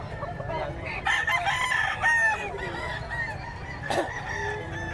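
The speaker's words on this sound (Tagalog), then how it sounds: "Mga manok dito." Chickens and roosters at a pet market stall in Bocaue, with crowing and clucking from several birds close by over a busy market background, one rooster crow rising prominently near the end.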